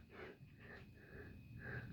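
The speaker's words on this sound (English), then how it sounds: "You guys are gonna have to put up with me sniffling through this whole video." Soft, congested nasal sniffling repeats in a few quick, wet inhales at close range, quiet and alone.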